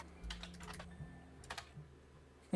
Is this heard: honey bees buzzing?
no